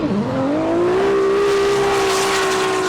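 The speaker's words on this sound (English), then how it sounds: "The NZ Motor Oil Zik E46 BMW running that 2JZ power plant." A BMW E46 drift car running a 2JZ engine screams at high revs at a New Zealand drift series qualifying round at Manfeild, a loud sustained engine note that climbs and then holds steady, close by.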